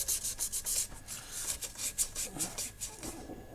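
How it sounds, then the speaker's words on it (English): Dried filler on a 1:600 Revell Enterprise model kit is lightly sanded by hand, soft quick rubbing strokes repeating in a steady rhythm, close and quiet. "that's the filler dry. I'll just lightly sand this down first of all"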